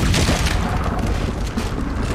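Cannon fire in Red Dead Redemption 2, a heavy, loud booming roar with a deep rumble that carries across the whole clip without letting up.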